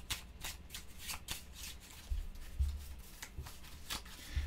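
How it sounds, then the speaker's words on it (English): Playing cards are riffled and shuffled in quick repeated bursts, crisp and close, with soft taps between the shuffles, during a solo game of Baseball Highlights 2045. "Do another shuffle."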